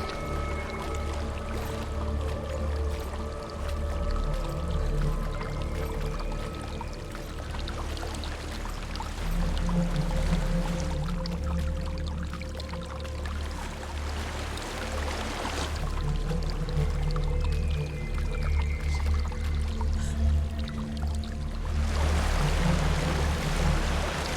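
A waterfall in the video game Hellblade: Senua's Sacrifice rushes in a continuous, dense roar of falling water, steady and fairly close, with faint tonal game ambience beneath it and no talk.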